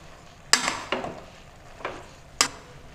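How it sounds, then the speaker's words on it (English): A few scattered scrapes and clinks of a utensil stirring Malabar spinach leaves in a pan, four separate strokes at uneven intervals over a quiet background. "Let's give this a stir."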